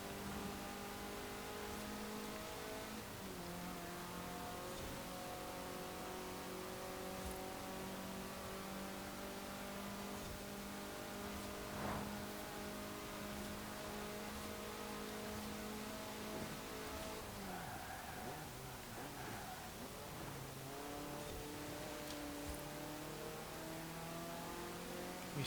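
Cars race in Forza Horizon 4 with a Mazda in the field alongside a classic MX-5 and RX-7, engines revving loud and continuous through shifting gears, pitch rising and dipping as the pack runs close together.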